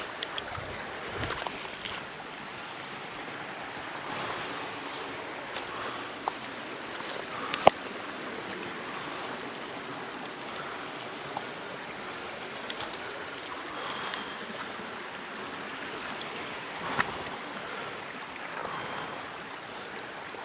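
A shallow river with large rocks flows steadily past, a soft continuous wash of water in a rocky channel in Talisay, Batangas, with faint occasional knocks and splashes.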